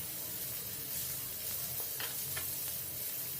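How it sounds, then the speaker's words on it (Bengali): Chopped tomato frying in a pan, a soft continuous sizzle with a few brief scraping stirs of a spatula partway through, fairly quiet and with no talking. "আবারও অল্প কিছুক্ষণ নেড়ে চেড়ে খুব ভালোভাবে সব কিছু ভেজে নেব"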